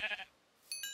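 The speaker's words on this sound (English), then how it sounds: "Why is that sheep in my house?" Two short sheep bleats from a blocky video-game sheep in the Minecraft modpack Age of Engineering, sounding late and fairly close inside a house, after a brief stretch of other sound and a quiet gap.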